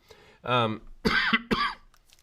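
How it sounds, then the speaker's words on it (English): Several harsh coughs and throat-clearing bursts in close succession, loud and near, with brief pauses between them. "sorry, guys, with my coughing here"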